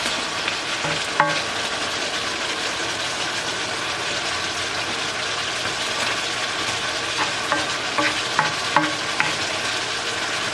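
Pancit canton noodles stir-frying in a pan over high heat after soy sauce is added, a steady broad sizzle with occasional clinks and scrapes of a utensil, close and continuous with no talking.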